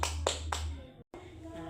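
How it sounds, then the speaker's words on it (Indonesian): Students in a classroom clap for a classmate: a few sharp, close claps in quick succession, then a brief pause and softer background sound with some voices. "Tepuk tangan untuk Akin."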